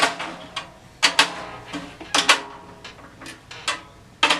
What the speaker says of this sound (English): So I'm going about half a turn on each lug.